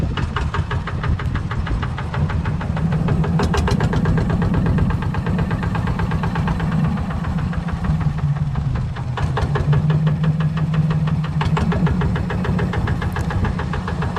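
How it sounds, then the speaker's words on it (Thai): A fishing boat engine runs steadily and loudly near an island beach as the boat is brought slowly to shore at low tide, a continuous knocking mechanical drone with no talk. "ตอนนี้น้ำก็ลดแล้วด้วยเพราะนั้น เราก็ต้องค่อยๆนำเรือเข้าครับ"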